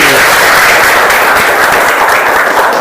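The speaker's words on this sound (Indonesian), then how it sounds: "Oke, tepuk tangan yang meriah lagi." High school students in a classroom clap enthusiastically, loud, close and continuous, a dense wash of hands throughout with no pause.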